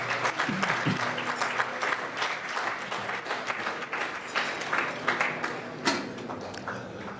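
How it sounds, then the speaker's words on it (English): Wharton students at a gala keynote dinner applaud, a steady, full wash of clapping that holds for several seconds at an even, moderate level. "I do expect the Wharton grads or the Wharton students to clap for themselves"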